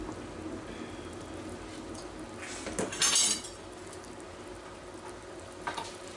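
Boiled beef lifted out of a soup pot for cutting, quiet clinks of utensils and pot against a soft background, with one brief louder clatter near the middle.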